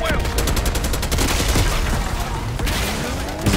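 Rapid automatic gunfire in Black Ops 6 played on PC, a dense burst of close, loud shots fired in quick rhythm, with a voice talking over the shooting.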